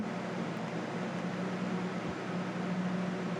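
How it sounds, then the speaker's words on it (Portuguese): An electric fan runs indoors with a steady, even whoosh of moving air, a constant close hum with no pauses. "Deixa eu desligar o ventilador."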